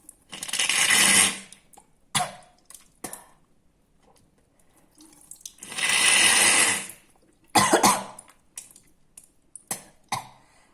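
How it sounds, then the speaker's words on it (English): Several harsh coughing and sputtering bursts with short pauses between, followed by a few sharp wet clicks and splutters, close up, as water drawn up the nose is coughed and spat out. "bring the water up to one nostril at a time and then cough and spit it out."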